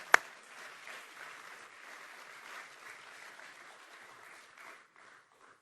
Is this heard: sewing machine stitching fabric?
no